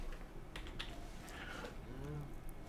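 Quick, uneven keystrokes on a computer keyboard during a modded Minecraft session, soft clicks in short bursts at a quiet level with faint background murmur.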